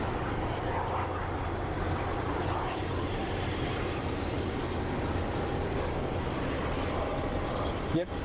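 An Airbus A350 airliner at Phoenix Sky Harbor airport roars past with a steady, broad engine rumble that holds loud throughout, with people talking beneath it.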